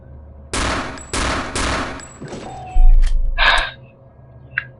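Gunfire in Return to Castle Wolfenstein: three loud, heavy bursts of shots in quick succession, followed by a lower rumbling blast and a couple of sharp metallic clanks, with no talking.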